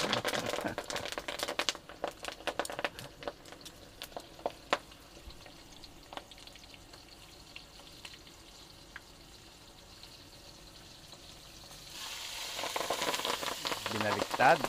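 Tilapia frying in hot oil in a home kitchen, a steady crackling sizzle with sharp spitting pops, close and moderately loud, swelling louder near the end.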